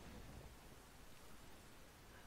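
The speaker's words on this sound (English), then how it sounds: "Okay, starting to hit some rain here." Steady broadband rain hiss in the Sea of Thieves pirate game, a constant wash of falling rain with no voices, continuous and fairly even throughout.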